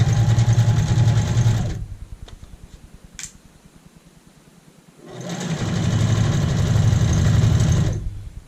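Sewing machine stitching a bias fabric apron strap runs in two loud, steady whirring bursts with a quiet pause between them, close and alone.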